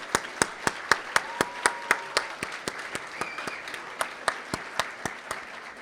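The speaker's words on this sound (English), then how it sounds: "Please join me in giving Stephen a well-deserved round of applause." Audience at a synagogue's 70th anniversary dinner claps for an honoree, sparse, distinct hand claps in a steady rhythm at moderate distance, fairly light rather than a thunderous ovation.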